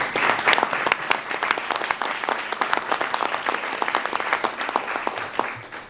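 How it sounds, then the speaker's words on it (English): Applause from an audience at a government commission meeting on drug addiction, sustained crackling clapping that runs evenly for several seconds and thins out at the close. "I too applaud you, Eli,"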